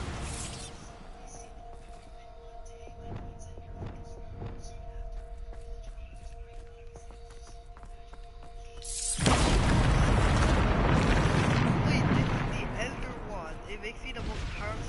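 A Bombarda explosion spell in Hogwarts Legacy goes off with a sudden heavy blast. A broad rumble follows for a few seconds after quieter sound and some talk.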